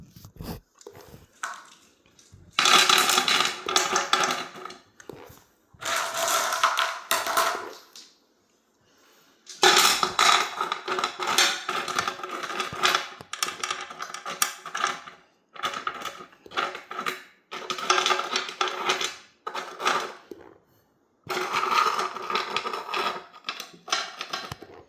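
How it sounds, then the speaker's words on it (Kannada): White stones are poured and set into a fish tank in repeated loud, gritty bursts of rattling and crunching, separated by short pauses. "ಇವಾಗ ಈ ಕಡೆ ಎಲ್ಲ ವೈಟ್ ಕಲ್ಲು ಹಾಕ್ತಾ ಬರೋಣ ನಾವು."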